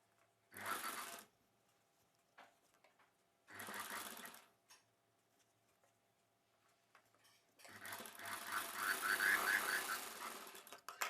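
A sewing machine sews down a folded extra piece on a puff sleeve for a long blouse, running in two short bursts and then one longer run, close up with nobody speaking.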